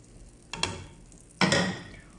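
Ground urad dal roasting in ghee in a pan gives two short bursts of scraping and sizzling as it is stirred, each rising sharply then fading, over a low, quiet hiss.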